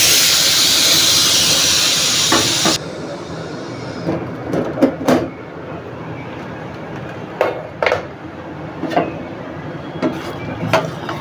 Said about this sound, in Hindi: इसको हम कुकर को खोल देंगे